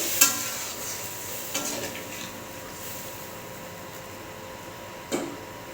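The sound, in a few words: stirring curry after adding water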